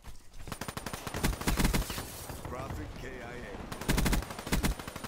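Rapid bursts of Weevil SMG gunfire in Black Ops 3 multiplayer, several sharp automatic volleys with pauses between them, loud and close, with a person talking over the game audio.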